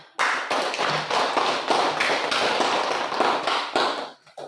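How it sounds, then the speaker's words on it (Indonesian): Students applaud a presenting group in a classroom, a burst of brisk, uneven clapping that starts abruptly, stays fairly close and lively, then thins out near the end. "tepuk tangan untuk kelompok 3"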